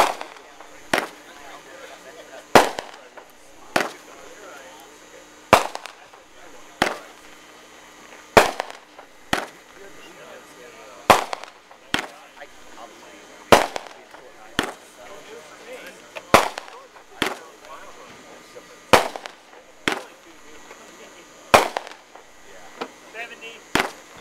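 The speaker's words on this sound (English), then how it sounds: "How about them fireworks? Pretty cool, huh?" Fireworks go off in a steady series of sharp, loud bangs spaced a second or two apart over a faint background rumble, with voices in the crowd here and there.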